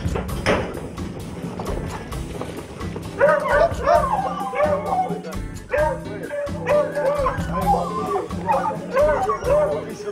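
Hunting dogs excitedly yelp, whine and bark nonstop after a hare hunt while being given their reward, a dense, loud, overlapping chorus of eager animal cries at close range.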